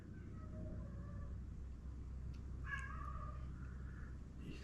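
A male cat meows indoors, a couple of short, moderately loud calls rising out of a steady low background hum, with no talking.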